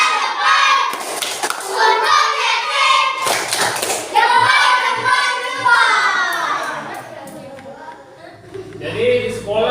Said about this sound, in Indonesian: Tepuk tangan untuk tepuk jempol untuk Kevin.